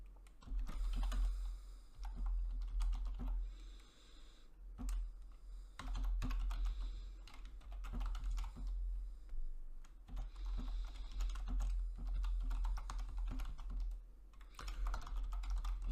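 Steady typing on a computer keyboard while writing logistic regression code, with bursts of close, crisp key clicks and short pauses between runs, alone without talk.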